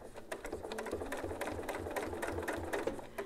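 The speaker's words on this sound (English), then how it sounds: "So I'm gonna sew up a little bit" A sewing machine runs steadily, stitching a classic clamshell quilt pattern guided by a Westalee Design ruler template, with a continuous fast needle rhythm and no talking.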